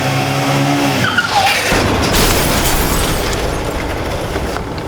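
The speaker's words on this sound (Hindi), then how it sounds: "पहले मैंने एक्सीडेंट की आवाज सुनी" A dramatized motorcycle accident plays out loud and close, with engine noise and a skid that smear into a broad crash burst and then a sustained noisy roar that fades slowly.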